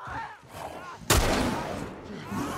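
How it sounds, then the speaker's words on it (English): A single loud shotgun blast from The Last of Us Part 1 rings out partway through, a sharp, heavy report with a long decaying tail after a low, quiet ambience. "So we're onto a shotgun now."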